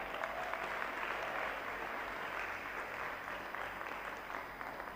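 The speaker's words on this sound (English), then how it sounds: "can you give my team a resounding round of applause?" An audience in a hall applauds, a full, steady wash of many hands clapping that holds evenly for about five seconds.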